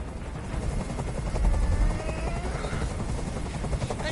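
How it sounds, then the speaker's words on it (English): A helicopter in the video game Detroit: Become Human, its rotor thumping steadily and loudly at close range with a rising and falling whine, heard on its own. "I can't stand that noise anymore. Tell that helicopter to get out of here."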